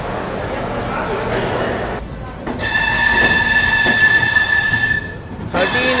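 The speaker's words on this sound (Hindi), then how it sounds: "हमारी ट्रेन बढ़ रही है अपने सफर में" An Arunachal AC Express passenger train with AC 3-tier coaches rolls along, giving a steady, loud rumble of wheels and carriage noise heard from on board, with a sharper metallic ringing joining in partway through.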